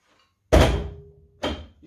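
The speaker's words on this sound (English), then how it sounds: "So when I push the button to pop the door," A Nissan car door pops open at the push of a button with a solid thunk that rumbles on, followed by a second softer knock, close and alone in an otherwise quiet space.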